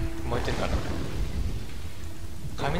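Rolling thunder in the middle of a storm in Kingdoms and Castles, a deep sustained rumble under steady rain for about three seconds, with someone talking faintly at the start and end.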